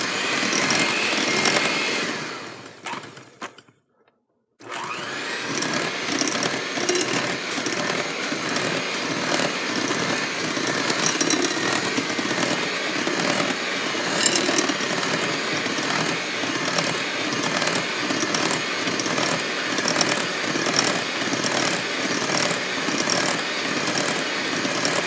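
An electric beater whirs steadily as it mixes flour into cookie dough, a loud continuous motor drone that cuts out briefly near the start and then runs on without talk.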